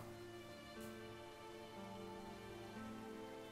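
Steady rain hisses throughout a gunfight scene in the video game A Way Out, a constant wash of drops beneath a droning game soundtrack, with no gunshots standing out.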